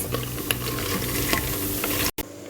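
Loud, continuous sizzling and crackling of fresh green beans frying in hot olive oil in a Fissler pressure cooker, with occasional stirring scrapes and a brief dropout near the end.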